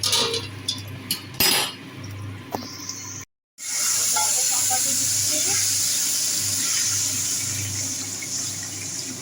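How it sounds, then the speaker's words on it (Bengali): Potatoes and pointed gourd fry in a pan in a Bengali home kitchen, a steady close hiss filling the clip, with a few brief clinks and splashes early on and a short gap partway through. "এদিকে হচ্ছে যে আলু পটল ভাজা হচ্ছে"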